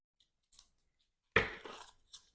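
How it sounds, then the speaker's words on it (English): A Marvel Champions card game deck being shuffled: a few faint ticks and flicks, then a sudden close riffle burst that rustles and fades out, with no one talking. "then we're going to shuffle the encounter deck."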